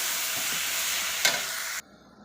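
Food being stirred in a kadai, with a steady frying hiss and a brief scrape near the end, then the sound cuts off abruptly to near silence.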